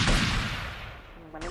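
Gunfire in Grand Theft Auto Vice City The Definitive Edition: a loud, close burst of shots at the start that decays into a rumbling tail, then a fresh sharp crack near the end.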